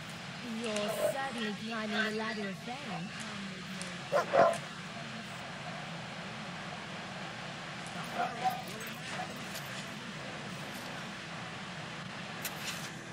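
A dog barking and yipping in the Fable 2 video game, a few short bursts at moderate loudness under game sounds and speech.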